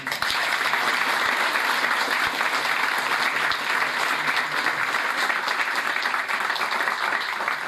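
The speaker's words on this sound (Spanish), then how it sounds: "recibamos con un fuerte aplauso a Leopoldo Morón" A crowd welcomes politician Leopoldo Moreau with strong, sustained applause, a dense and even roar of clapping that holds at one loud level throughout, with a few sharp knocks early on.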